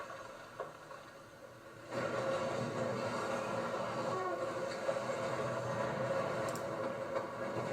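A train rumbles past as a landslide comes down beside the tracks, a steady, fairly faint roar of rolling wagons that swells after a quiet start, with no voices.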